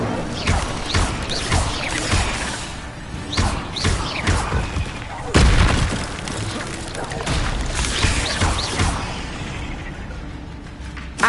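A fire spell cast in the Hogwarts Legacy video game amid spell combat against spiders, with a burst of booming impacts and crashes at mid-clip over a steady layer of game noise and clattering action.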